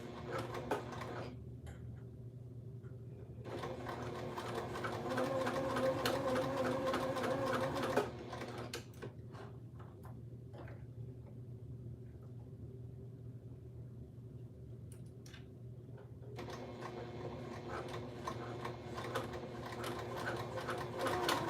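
A sewing machine stitches a small zippered pouch in bursts, running steadily for a few seconds, pausing in a low hum, then starting again, fairly quiet and close.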